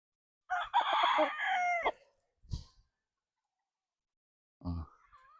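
A nine-month-old Gary Gilliam Roundhead gamecock crows once, loud and close, followed by a brief noise and a short cluck or partial call after a pause.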